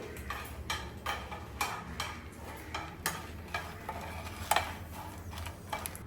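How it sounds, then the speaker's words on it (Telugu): Dried red chillies fry in oil in a pan for a Rayalaseema ragi sangati dish, giving a steady soft sizzle with repeated light stirring scrapes and ticks at a close distance, with no talking. "ఓకే, మిర్చి కూడా బాగా వేగింది."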